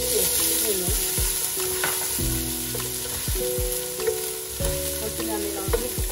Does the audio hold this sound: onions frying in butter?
yes